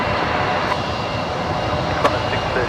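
A Boeing 737-8 roars as a steady, loud aircraft engine rumble at Brisbane Airport, with a continuous broadband wash and a brief sharper burst partway through; a voice talks faintly underneath.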